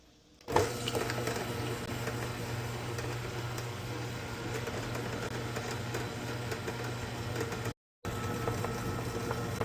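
Mixer grinder grinding quinoa for idli batter, switching on abruptly into a steady loud whirring drone that runs on, briefly cutting out near the end before resuming.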